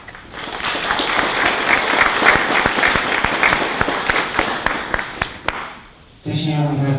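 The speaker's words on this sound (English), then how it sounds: "give them a big applause" Sustained audience applause for the sponsors at the T-DOSE 2011 open-source conference in Eindhoven, dense and steady with sharp individual claps, fading out near the end before a voice begins speaking.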